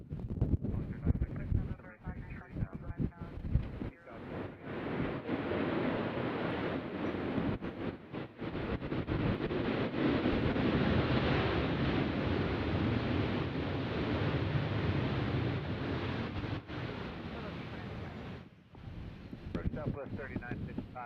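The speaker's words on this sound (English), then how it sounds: "I'm letting you hear the wind so you know why the camera is shaking." Strong wind buffeting an outdoor microphone at an airport, a continuous loud rumbling roar with gusty swells and brief dips, with a voice speaking under the noise near the start.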